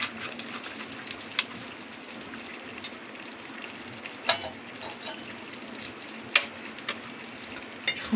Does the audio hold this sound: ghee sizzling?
yes